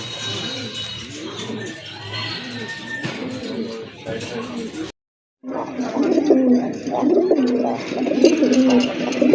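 A pair of Rajgolla fancy pigeons coo in repeated low, throaty phrases, loud and close, with someone talking over them and a brief dropout in the middle.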